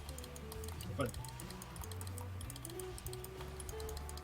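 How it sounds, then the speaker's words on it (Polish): Fast typing clatters on a computer keyboard as a string of quick, close clicks with a brief louder burst, over a low background hum and faint voices. "Także będzie napieprzanka w klawiaturę"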